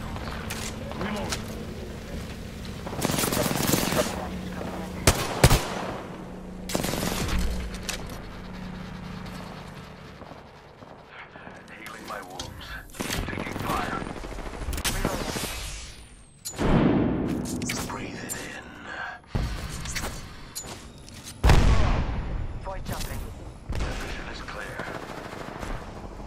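Apex Legends gunfire rattles in repeated bursts of rapid shots, loud at times and fading at others, mixed with other game effects and voices talking over the action.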